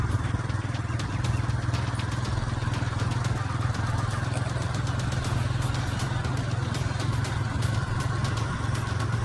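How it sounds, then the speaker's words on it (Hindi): A motorcycle carries riders through the streets of Siwan, its engine humming steadily and close under constant wind buffeting, with no pauses and no talk. "अभी हम बाइक पर हम लोग सवार हैं और शहर के तरफ कूच कर गए हैं।"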